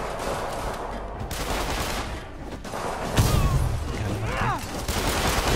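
Gunfire erupts in the Spider-Man PS4 video game, a dense fusillade of shots and bursts mixed with game effects and booms, running steadily throughout at fairly loud level.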